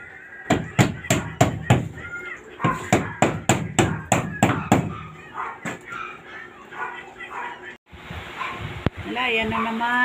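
Hammer striking on damaged, peeling roof plywood of a leaking roof during heavy rain and wind from storm Fabian; a dozen sharp, rhythmic blows come in two quick runs, followed by softer handling noise and a voice.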